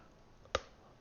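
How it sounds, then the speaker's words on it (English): A desk chair gives a single short creak or crack in a quiet room, one sharp burst in the middle and nothing before or after it. "That was my chair that made that noise."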